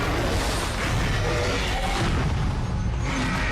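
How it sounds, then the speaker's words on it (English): Fireworks explode during a Stranger Things season 3 finale scene, a continuous, dense barrage of booms and crackles rumbling close and loud for a few seconds. "Yes! The fireworks."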